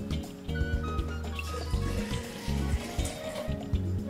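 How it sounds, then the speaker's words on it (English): Soy milk pours into a jar with a continuous liquid fill sound, close and moderately loud, alongside low tonal background sound. "pour some milk in,"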